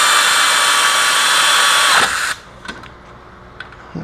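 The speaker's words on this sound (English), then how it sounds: "we'll go ahead and get these caliper bolts snugged up" A power tool snugs up the caliper bolts on an ATV during a SuperATV rear wheel bearing job, whirring loud and steady for about two seconds before cutting off, leaving a few faint clicks.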